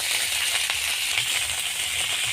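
Cut potatoes and Malabar spinach stems fry in hot mustard oil in a kadai, producing a dense, continuous close sizzle with faint crackles throughout. No voices are heard.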